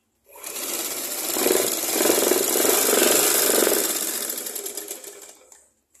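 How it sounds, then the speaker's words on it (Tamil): A sewing machine stitches a fall onto the edge of a saree in one continuous run of about five seconds, a steady, fairly loud mechanical whir with a rapid needle chatter that swells slightly in the middle and then stops. "இப்போ இந்த பால்ஸு இந்த சேலைக்கு அடிக்கிறேன்"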